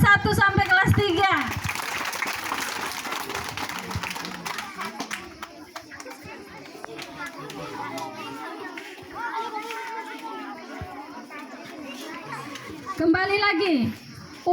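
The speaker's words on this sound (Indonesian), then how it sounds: "beri tepuk tangan untuk kelas 1 sampai kelas 3" Schoolchildren from classes one to three clapping in bursts, mixed with lively children's chatter and shouting in a classroom or hall, with an adult voice speaking over them.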